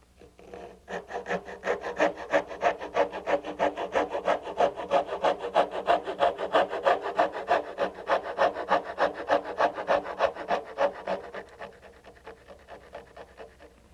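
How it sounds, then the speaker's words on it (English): Coping saw back cutting a wooden baseboard by hand, following the profile: a steady run of rapid, rhythmic rasping strokes, close and fairly loud, continuing for about ten seconds before tapering off, with no talk. "Then with a coping saw, I back cut it, holding the baseboard steady and turning the saw as I follow the profile"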